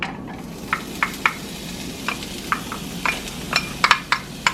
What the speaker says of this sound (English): We're going to throw in our onions.